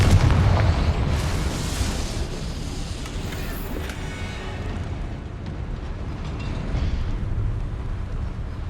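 Confringo blasting spell explosion in the Hogwarts Legacy video game, a heavy booming blast with a long rumbling tail that sustains loudly for several seconds.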